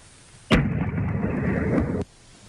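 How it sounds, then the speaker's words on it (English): A single large explosion caught on a doorbell camera: a sudden loud boom that holds as a dense roaring rumble for about a second and a half, then cuts off abruptly. "That's a nice big boom. Now that's a boom."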